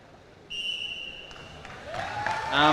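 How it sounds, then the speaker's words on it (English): A referee's whistle gives a long, clear, shrill blast to start a robot contest match at an ABU Robocon event in New Delhi, followed by rising crowd noise and a commentator's voice. "And with the whistle, the game begins."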